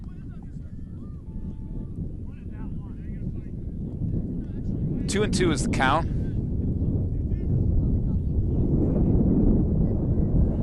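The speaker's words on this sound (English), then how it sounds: "It's a bit windy here, if you can hear that noise." Low, blustery wind buffets the microphone throughout a junior varsity baseball game, growing stronger toward the end, while someone talks over it and a brief whistling tone cuts through.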